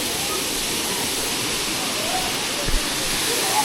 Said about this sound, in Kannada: ಹ್ಯಾಂಡ್ಬಾಲ್ ಫಾಲ್ಸ್, ಅಬ್ಬಿ ಫಾಲ್ಸ್ ಅಂತೆಲ್ಲ ಹೇಳ್ತಾರೆ.